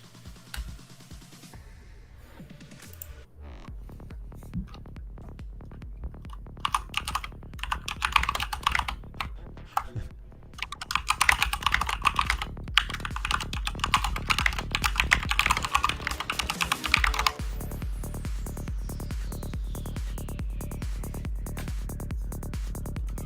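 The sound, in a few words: computer keyboard typing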